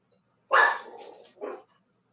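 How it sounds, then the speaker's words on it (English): A dog lets out two sharp barks close by, the first loud and drawn out, the second shorter and softer, against near silence. "Apologize in advance if my dogs start going off."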